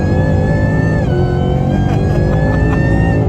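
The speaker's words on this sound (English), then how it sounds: "You forget you're driving a supercharged car until you do this." A 2018-20 car fitted with a VMP Odin supercharger kit accelerates hard, its loud engine roar climbing steadily with supercharger whine layered over it, close up from inside the car, with no talking.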